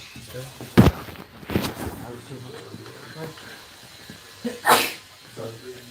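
A sharp sneeze bursts out in a barber shop, followed by a second, smaller sneeze-like burst a few seconds later, with quiet talk and small handling noises in between.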